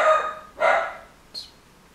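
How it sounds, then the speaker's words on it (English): A dog barks indoors in two short, loud barks about half a second apart, followed by a fainter higher yelp, with no talk. "And my dog is barking at no one."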